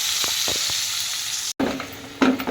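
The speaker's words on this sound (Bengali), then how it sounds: "তো এই দেখো আমি কলা আলুটা কষাচ্ছি" Taro potatoes sautéed in a pan, a loud continuous sizzle with spoon clicks and scrapes, briefly cut off, then returning with more stirring and a louder burst near the end.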